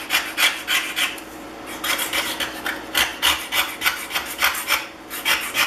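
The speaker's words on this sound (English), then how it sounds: "Start out with the scraper, always scraping in one direction, and making sure you've got a good burr on your scraper before you start." A burred hand scraper strips thick rust from an iron cap, pushed in one direction with a steady run of harsh, close rasping strokes, about two each second, with no talk.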